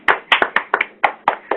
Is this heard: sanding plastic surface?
no